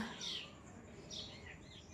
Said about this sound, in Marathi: चिमणीचं पिल्लू छोटूच